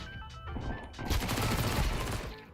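Rapid MP9 submachine gun fire in Counter-Strike 2, a dense loud burst of shots filling most of the clip after a brief quieter lead-in, with game sounds in the background.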